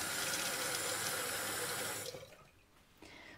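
Water runs steadily from a tap in a broad hiss for about two seconds, then cuts off, leaving faint clinks and drips.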